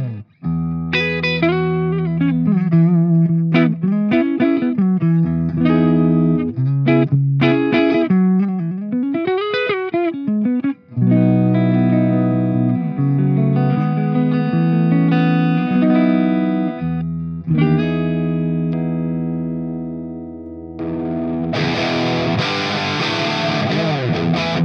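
An electric guitar plays through a Marshall 30th Anniversary amp head, loud and distorted, moving from bent melodic lines to chunky chords and ending on a brighter, noisier stretch.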